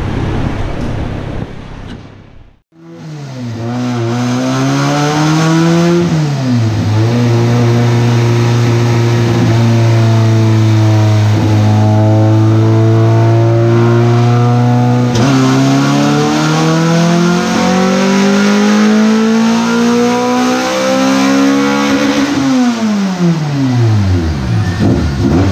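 A turbocharged LS V8 car on a dynamometer roars through a full pull, the engine note climbing and holding at high revs for about twenty seconds before winding down, very loud and close and alone.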